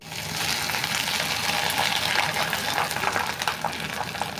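Grated coconut goes into a frying pan of hot oil with reddened whole spices, and a loud, continuous sizzle and crackle runs steadily throughout with no talk.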